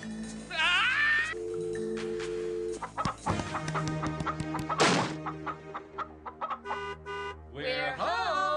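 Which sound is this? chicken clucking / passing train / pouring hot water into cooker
chicken clucking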